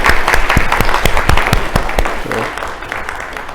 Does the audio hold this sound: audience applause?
yes